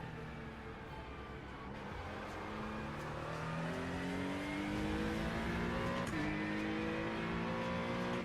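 A GT3 race car engine in the iRacing sim, revving hard as it accelerates up through the gears with rising pitch and a brief dip at a shift, loud and steady with no talk.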